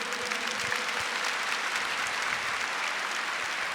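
A large church congregation clapping during a Catholic sermon, a thick continuous roar of applause sustained at an even level, with a faint low tone beneath.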